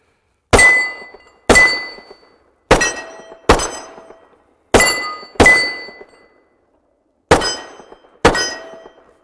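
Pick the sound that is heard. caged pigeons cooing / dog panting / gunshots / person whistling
gunshots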